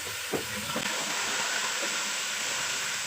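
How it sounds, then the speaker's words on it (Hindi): Garlic ginger paste hits browned onions in a hot pan, raising a loud, continuous broadband sizzle with a couple of faint clinks near the start. "अब इसमें मैं 2 टेबल स्पून भर के ऐसे 3 लहसुन अदरक का पेस्ट मैंने शामिल कर दिया"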